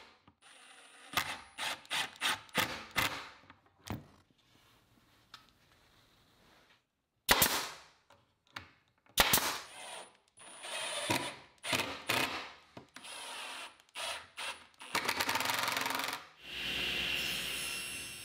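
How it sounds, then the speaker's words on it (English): Plywood is tacked down with 3/4 inch nails and then fastened with 3/4 inch screws while building a sofa table, giving sharp, rapid, close impacts in bursts, with pauses in between and a drawn-out whirring stretch near the end. "I'll tack the plywood in place with 3/4 inch nails to keep the plywood from moving around, and then use 3/4 inch screws."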